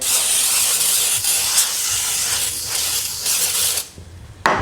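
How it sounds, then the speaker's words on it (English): A loud, steady hiss of baking spray sizzling on a hot wok, continuing for a few seconds before cutting off abruptly. "I just do some baking spray."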